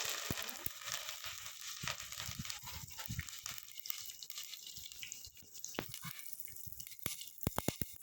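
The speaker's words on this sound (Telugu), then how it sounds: "ఆయిల్ వేసేసి వేడైన తర్వాత పోపు దినుసులు వేసాను." Tempering spices sputter in hot oil for a ridge gourd curry with a close, crackling fizz. Sharp popping clicks are scattered throughout and bunch together toward the end.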